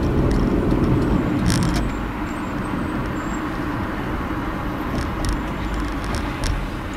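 Steady road roar from inside a car driving through busy traffic and changing lanes, with a broad low rumble throughout and a few faint clicks or ticks, no talking.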